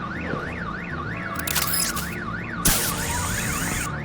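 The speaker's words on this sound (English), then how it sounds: "My bat stunner would set off the car alarm." A car alarm in the Telltale Batman video game wails with a rapid rising and falling tone. Sharp electronic bursts and game sound effects cut in twice over the top, and no one speaks.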